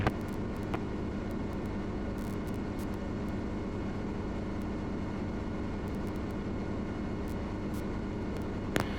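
A helicopter in flight over Edmonds makes a steady, dense cabin drone of engine and rotor noise, broken by a couple of brief clicks, with no voices.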